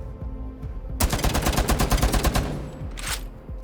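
Rapid automatic gunfire at the shooting range in Rainbow Six Siege, a loud burst of closely spaced shots lasting about a second and a half, then a short sharp echo tail and a brief final crack, with no talking.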